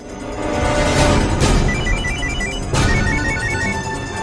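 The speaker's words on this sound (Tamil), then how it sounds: "இப்ப நான் அவன்கிட்ட ஃபோன் பண்ணி பேசுறேன்" An electronic phone ringtone trills in repeating bursts over a busy, noisy background, with no talking.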